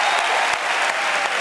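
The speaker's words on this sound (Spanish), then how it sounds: "un aplauso para ellos." The studio audience at a televised Spanish gala show applauds, giving a brief, dense, continuous burst of clapping with no voices over it.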